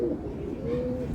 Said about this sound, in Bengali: ম্যাড্রাস পায়রা আছে